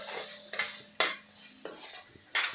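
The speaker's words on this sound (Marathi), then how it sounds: "बघा अशा पद्धतीने आपल्याला परतून घ्यायचं आहे" A spatula scrapes and clanks against a pan as spices with Kashmiri red chili are stirred and sautéed for fenugreek leaf bhaji: several distinct metallic knocks over a faint, low background sizzle.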